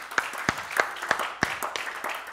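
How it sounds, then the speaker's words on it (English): A church congregation claps during a Sunday morning service, a loose spread of hands with several sharper claps falling in a rough, uneven beat, moderately loud and without voices on top. "Give the Lord a hand clap this morning."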